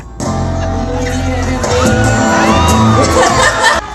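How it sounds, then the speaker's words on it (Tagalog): Fans at a regional TV network stars event in Bacolod City scream and cheer as a host comes out, loud whoops and shrill yells over booming music, building to a sustained roar. "Hiyawan din ang sumalubong sa paglabas ng T-Bats host na si Bubay."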